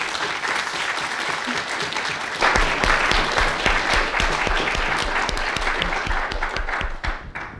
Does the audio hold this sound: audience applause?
yes